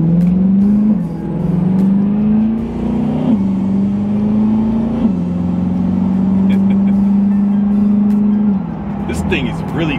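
A twin-turbo Corvette C8 accelerates hard, its engine note climbing through several gear changes in a loud, close sustained drone from inside the car.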